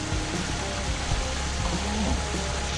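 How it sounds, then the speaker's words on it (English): A small waterfall trickles down rocks into a pool in the Dolomites of northern Italy, making a steady, dense wash of splashing water with no pauses. "Got a little waterfall trickling down the rocks, creating this lovely little pool."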